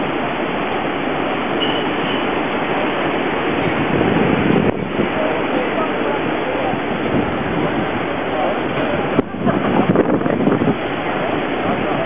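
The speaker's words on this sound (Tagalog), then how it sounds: "Kunan ko muna yung alon." Ocean waves wash continuously onto a shore, a broad steady roar mixed with wind buffeting the microphone, loud and close, with brief bumps in the noise.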